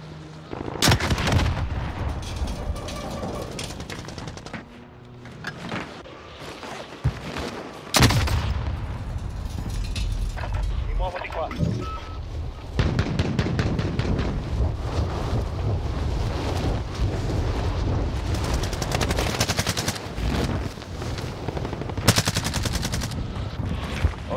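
Video game gunfire and rocket launcher blasts burst out loudly in rapid volleys and single heavy booms, with brief lulls between, continuing throughout.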